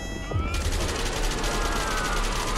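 In an SCP video game, gunfire erupts into a dense, loud, continuous burst after a short moment, filling the rest of the clip with no speech.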